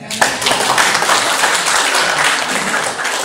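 A crowd claps and applauds steadily, a dense, continuous wash of hands lasting a few seconds.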